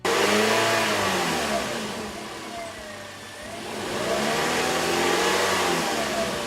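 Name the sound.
car engine revving during a battery test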